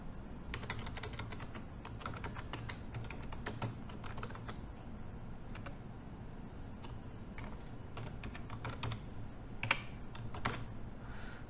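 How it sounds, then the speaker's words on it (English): Rapid clicking keystrokes on a computer keyboard while an email address is typed, close and fairly quiet, coming in quick irregular bursts with brief pauses and no talking. "Again, I will type as my email address."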